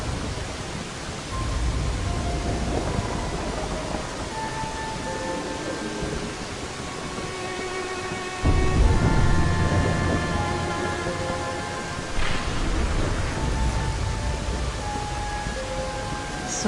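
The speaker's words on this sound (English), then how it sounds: "this is the first time I've ever felt the rain on my skin" Steady rain falls in a Final Fantasy VII Dirge of Cerberus game scene, a constant hiss under a soft musical bed, swelling slightly louder midway, with no one speaking.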